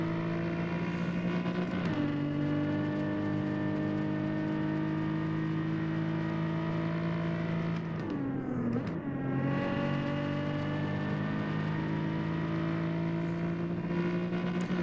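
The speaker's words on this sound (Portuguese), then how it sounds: "Até o som do motor do carro." A steady, high-pitched racing car engine in the game Drive Zone Online drones continuously, pitch dipping briefly as it shifts or slows, then climbing again; no talking.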